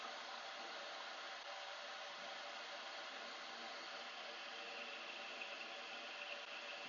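A glassworking torch flame roars as it is turned up, a steady close hiss and rush of gas that holds without change throughout.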